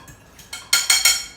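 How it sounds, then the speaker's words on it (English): Egg being whisked for a chicken and bacon omelette, a few quick sharp clinks of a utensil against the bowl, growing louder toward the end, close and alone. "Finish whisking that egg up."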